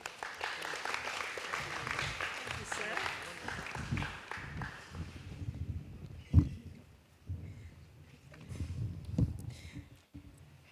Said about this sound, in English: Let us give another big round of applause to that wonderful speech.